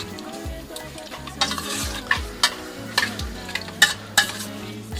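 Rice toasting dry in a pan at the start of a weekday risotto, stirred with a utensil, giving a soft sizzle with repeated scraping strokes and small clinks, close up, no voices.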